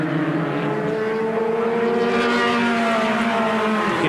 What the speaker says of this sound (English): You can hear the four-cylinder engines are working really, really hard